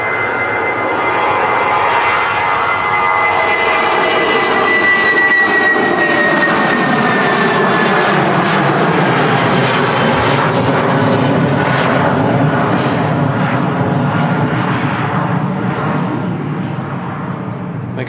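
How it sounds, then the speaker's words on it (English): A British Airways Airbus A319 jet airliner on the Heathrow shuttle passes at Manchester Airport, a loud, steady engine roar holding for the whole stretch with a faint whine, swelling slightly mid-pass and easing off at the end. "There goes British Airways A319 heading back to London Heathrow Airport on the shuttle service today."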